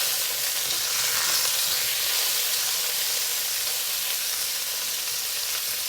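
Chicken pieces on the bone fry in a non-stick wok for a Klang dry bak kut teh stir fry, giving a steady, dense sizzle and hiss that carries on evenly and fairly close, with no talking.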